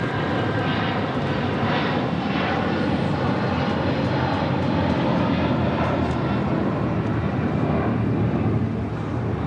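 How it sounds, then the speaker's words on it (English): A Boeing 787-8 Dreamliner airliner at LAX, heading to Tokyo Haneda, gives off a loud, steady jet engine roar and rumble that holds constant throughout, with no talk. "787-8 Dreamliner heading to Tokyo Haneda, flight 27."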